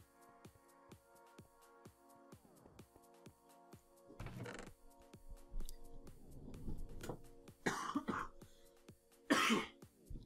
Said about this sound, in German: So, da habe ich kurz gehustet.